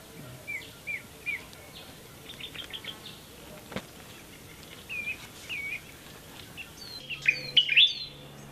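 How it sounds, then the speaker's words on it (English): A paradise flycatcher with a red belly calls in Sierra Leone forest, giving a string of short, bright chirps in scattered bursts over a quiet background, with a louder, nearer pair of notes near the end. "paradise flycatcher. Red belly."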